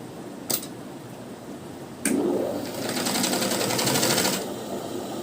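A sewing machine stitches a curved piece of cloth onto a blouse lining, running in a steady close burst from about two to four and a half seconds after a couple of sharp clicks.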